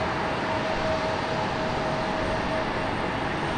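A Republic Airways airliner at Raleigh-Durham International Airport gives a loud, unbroken jet roar with a faint steady whine riding on top, sustained for the whole stretch.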